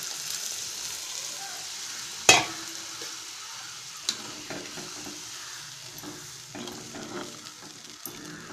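Tamarind water mixed with turmeric goes into a pan of frying peanut paste: a sharp splash, then soft sizzling with a few scattered clinks, close and quiet, no voices.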